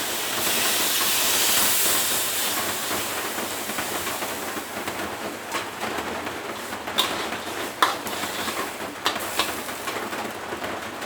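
Pork simmering in water in a pan, giving a steady broadband hiss and bubbling, louder at first then settling, with a few faint clicks and pops.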